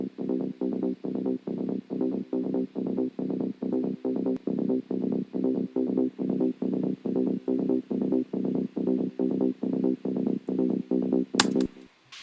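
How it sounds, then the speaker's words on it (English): Virus synthesizer bass plays a steady, rhythmic pulsing pattern of short repeated notes, loud and alone for about eleven seconds before a brief click at the end. "virus bass right here, which is pretty much the main sound that you could hear"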